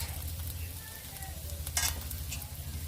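Ground chilli paste and black pepper hit oil in a pan for a Bengali steamed egg dish, producing a soft, steady sizzle with faint stirring scrapes, fairly quiet and without talk.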